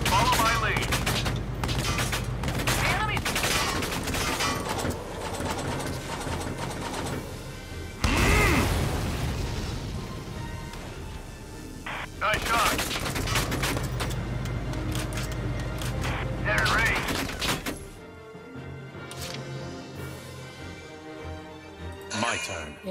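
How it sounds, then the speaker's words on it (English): Tank cannon fire and gunfire erupt in the Valkyria Chronicles 4 video game, loud bursts of blasts and rattling shots layered with engine rumble and battle music, with voices calling out over the action. "And now I just run the tank up to blow stuff up."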